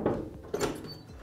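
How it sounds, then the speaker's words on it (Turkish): A door is knocked on indoors, giving two muffled thumps about half a second apart over low room noise. "Kapı çaldı"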